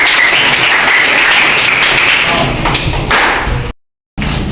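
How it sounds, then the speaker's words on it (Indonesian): A classroom of students claps together during a teacher training lesson, a loud, close burst of applause with some thumping that runs for a few seconds before cutting out abruptly. "Tepuk tangan untuk semua."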